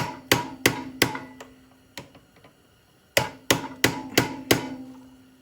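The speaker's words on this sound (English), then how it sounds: "I'm gonna try it, but pounding on my good sockets." A hammer pounds on sockets to fit a Honda 300EX sprocket, giving sharp metallic strikes with a ringing tone. They come in two quick bursts of four or five blows each, separated by a short pause, close and loud.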